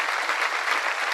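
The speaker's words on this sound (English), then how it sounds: "just give you a round of applause" An audience at a live Talkaoke discussion event in Hackney claps in a steady, dense round of applause, fairly close and even in loudness throughout, with no voices over it.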